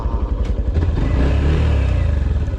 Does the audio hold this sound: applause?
no